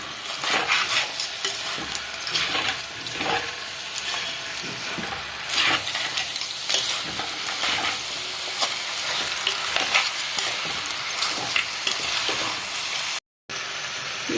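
Cleaned crabs fry in a hot pan of oil, giving a continuous loud sizzle while a utensil repeatedly stirs and scrapes them, with intermittent clinks against the pan throughout.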